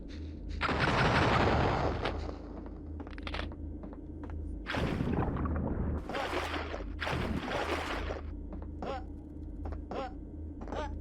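Gunshots in a haunted first-person shooter game on a water level, several separate bursts of firing over a low steady hum, loud and close, with gaps of quiet between the volleys.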